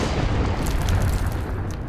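A game explosion in Metro 2033 Redux, a dense, heavy boom that rolls on for about two seconds with crackling bursts and deep low-end rumble and no talking over it.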